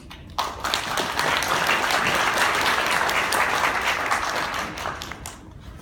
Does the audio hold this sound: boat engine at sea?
no